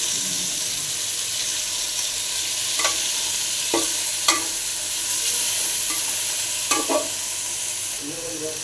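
Chicken pieces frying in a pan for chicken curry give off a steady sizzle, with a few brief sharp clinks and stirring sounds scattered through, close and fairly loud with no talking.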